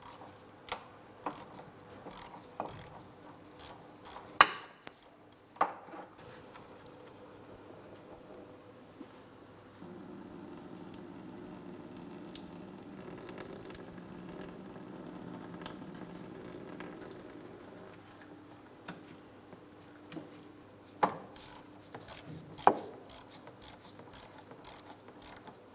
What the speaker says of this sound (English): I'm going to be using a 19mm to start loosening this drain plug.